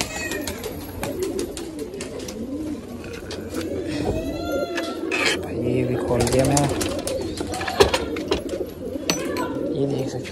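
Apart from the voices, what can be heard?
pigeons cooing after being let out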